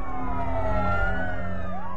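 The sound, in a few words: fire truck sirens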